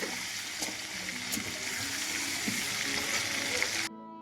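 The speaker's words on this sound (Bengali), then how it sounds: "লাল লাল করে ভাজা হবে" Steady hiss and crackle of potatoes frying in oil until reddish-brown for biryani, with occasional soft stirring clinks, continuous and close, ending abruptly.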